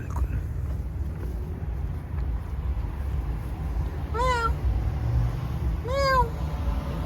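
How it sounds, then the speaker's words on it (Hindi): A black cat gives two distinct meows, a few seconds apart, over a steady low rumble of outdoor background noise, with no one speaking. "Ah, there is a black cat."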